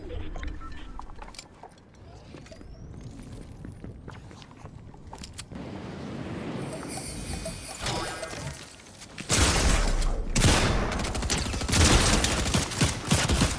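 SMG gunfire in the Fortnite video game: rapid bursts of automatic fire, loud and close, building into dense, sustained volleys in the second half, with some game sound effects and a voice at times.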